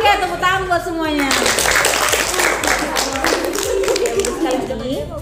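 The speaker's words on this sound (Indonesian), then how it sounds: "tepuk tangan buat semuanya" A classroom of students claps their hands in quick, rhythmic bursts after a teacher's voice, with chatter and a chuckle mixed under the clapping.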